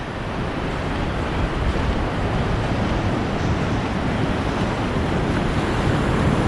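Ocean surf at Myrtle Beach in summer, a dense, steady roar of breaking waves close by, with wind rushing over the microphone and no talking.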